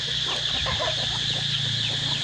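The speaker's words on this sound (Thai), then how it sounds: "นี่ครับไก่ก็จะมากินอยู่ตรงนี้นะครับ" Free-range farm chickens cluck and murmur while feeding on coconut pulp, leftover shabu scraps and vegetable waste, a steady flock chatter of overlapping short clucks over constant background hum, with no talking.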